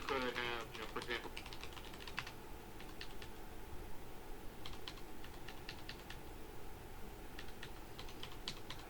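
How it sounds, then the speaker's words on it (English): Fingers tapping on a computer keyboard in quick irregular bursts with short pauses between, close and fairly quiet over a soft room hum. "I'm just going to be typing for a few minutes."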